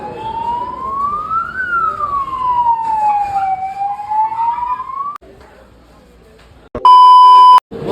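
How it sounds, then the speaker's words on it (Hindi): A speeding ambulance siren wails in a rising and falling sweep during a hospital emergency drill at PIMS, loud and close, then cuts off before a sharp electronic beeping burst near the end. "तीसरी एम्बुलेंस आ रही है भाई"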